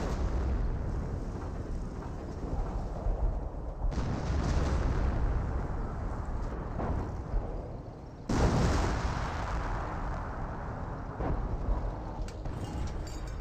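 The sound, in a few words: artillery fire in the video game Company of Heroes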